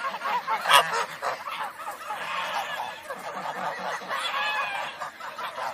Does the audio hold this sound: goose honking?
yes